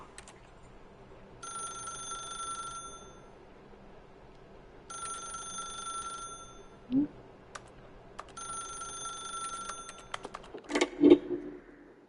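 An old-style telephone bell rings in three long bursts separated by pauses, fairly clear and close, followed by a few soft clicks and bumps.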